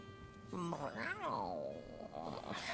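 A cat character in Divinity: Original Sin Enhanced Edition makes a drawn-out, sliding vocal sound at middle loudness after a short stretch of background music.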